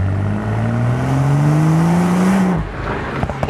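A BMW M135i engine revs hard under turbo boost, its pitch climbing steadily and loudly for a couple of seconds before cutting off sharply, followed by a lower idle with small clicks and puffs.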